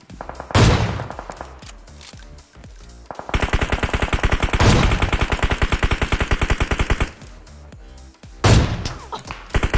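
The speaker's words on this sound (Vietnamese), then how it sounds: "Ôi, có thằng bắn em ơi" Gunfire crackles in PUBG Mobile: loud single booming shots alongside long, dense automatic bursts, some close and heavy, others rattling steadily in rapid succession.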